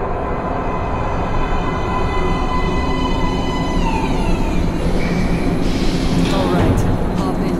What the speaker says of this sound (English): Train coming in.